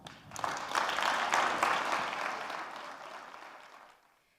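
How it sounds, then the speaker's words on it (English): An audience at a public forum on race, place and poverty applauds two speakers; fairly distant clapping swells after a brief start, sustains for a few seconds, then fades away into quiet. "Let's give Rohit and Tiziana another round of applause."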